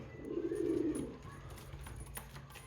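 A soft, low pigeon coo rises briefly near the start, then fades into a quiet background with faint rustling.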